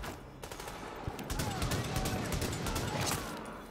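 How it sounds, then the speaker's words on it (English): Sustained automatic gunfire from a turret in The Division video game, a long dense burst of rapid shots, loud and near, with someone talking over it. "I got the turret now, boy."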